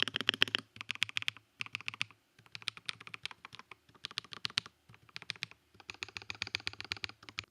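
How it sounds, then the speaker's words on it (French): Leopard L switches on a Bluetooth gaming keyboard with a built-in screen clatter under rapid typing, bursts of crisp close keystrokes separated by short pauses, with no voices. "écoutez-moi ce bruit majestueux des switches."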